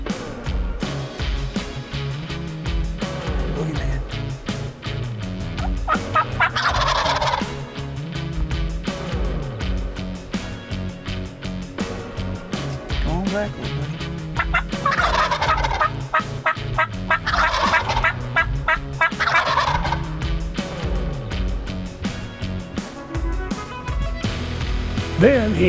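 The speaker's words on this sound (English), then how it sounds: "They continue to gobble and hang around no matter what Joe does." Young wild turkey toms gobble repeatedly at close range in the field, loud overlapping bursts recurring throughout with brief pauses between them.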